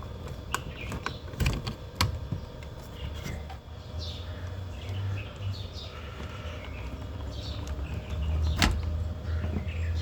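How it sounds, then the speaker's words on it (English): A 2006-2011 Honda Civic driver's door window switch panel has its electrical connectors pressed and pulled free, giving a few sharp, close plastic clicks and light rattles over a low background rumble. "Press the tab on the side and then pull out the connector."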